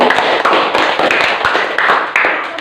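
A classroom group claps together in a quick, steady rhythm, close and loud, with voices chanting along in time.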